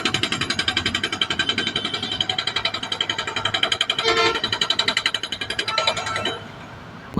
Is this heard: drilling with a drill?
yes